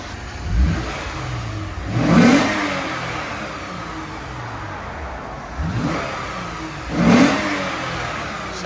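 A 2015 Lexus RC350 F Sport 3.5L V6 on its stock exhaust revs twice, each sharp throttle blip rising and falling over a steady idle, heard fairly close.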